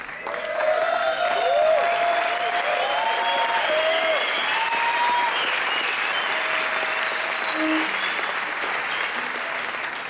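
An audience at a jazz performance breaks into sustained applause for a musician, dense clapping holding steady for several seconds while scattered instrument tones sound underneath.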